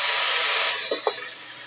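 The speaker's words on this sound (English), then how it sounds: "if I'm going to drill this, I'm going to drill a small hole in the bottom of this." A drill bores a small hole in the bottom of a container, a steady loud hissing whir that softens near the end, with a couple of faint thumps.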